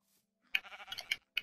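Minecraft sheep bleating in a video game, a short burst of nasal bleats followed by one more quick bleat, fairly close and alone.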